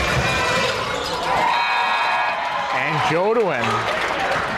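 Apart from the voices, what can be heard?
crowd noise from fans at a basketball game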